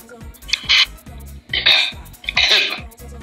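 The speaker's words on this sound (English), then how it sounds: "Cough." Three harsh coughs in quick succession, close and fairly loud, separated by brief pauses.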